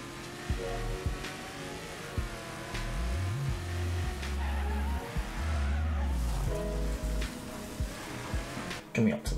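A race car engine revving and shifting gears in the video game Wreckfest, rising and falling pitch sweeps with short-shifted upshifts, mixed with other cars nearby and a burst of impact noise at the end.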